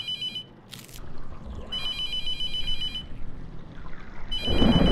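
A phone ring tone from a horror video game repeats in electronic bursts, stopping and restarting, over low game ambience with a watery sloshing rise at the end.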